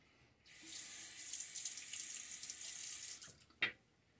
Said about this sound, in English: Get a good rinse now.